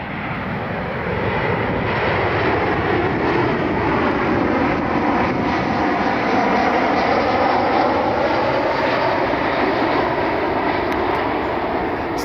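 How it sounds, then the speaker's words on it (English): A United Airlines airliner flies inbound from Houston, its jet engine roar loud and continuous, swelling gradually as it passes with no talk over it. "United Airlines 544 inbound from Houston."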